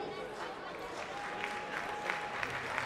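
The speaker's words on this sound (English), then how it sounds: "Let's give them a big round of applause." Applause and scattered cheering from a crowd welcoming table tennis finalists into a hall at the South African Open, a steady wash of clapping with a few sharper peaks, fairly distant and moderately quiet, with a murmur of voices mixed in.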